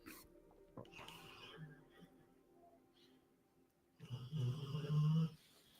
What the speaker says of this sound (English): The dog is snoring like crazy right now.